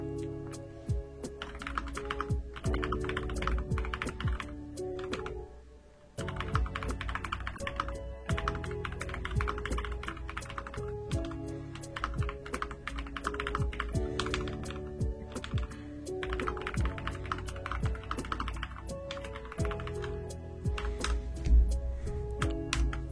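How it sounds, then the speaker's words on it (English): Loud, fast typing on a computer keyboard clatters continuously in close, dense bursts of clicking keys with a brief pause near the middle, sounding alone without talk. "I'm a very loud typer, I apologize."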